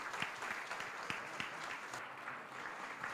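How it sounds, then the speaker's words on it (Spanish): A small group claps for a few seconds, scattered hand claps blending into steady applause, fairly close. "Podemos dar un aplauso acá a los Moisés."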